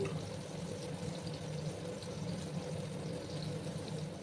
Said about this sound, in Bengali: আলুগুলোকে ভেজে নিচ্ছি